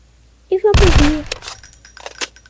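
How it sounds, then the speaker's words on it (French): A gunshot from a firearm in the FPS survival game Etranger Survie: one loud, sharp burst with a short rattling tail, preceded and followed by fainter game sounds. "là j'ai mon arme à feu, et puis là je le vise, et pouf, il va mourir"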